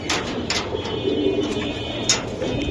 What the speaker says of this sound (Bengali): এই সাইডেরটাও সাপচিলা কবুতর।